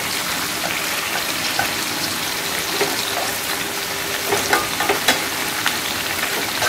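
Shrimp frying in oil in a pan for garlic butter shrimp, a steady bright crackling sizzle with scattered small pops and utensil clicks, close and continuous.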